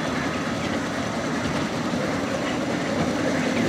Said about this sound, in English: Here we have the train in action.